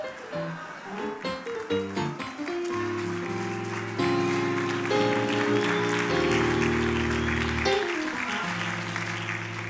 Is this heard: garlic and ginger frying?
no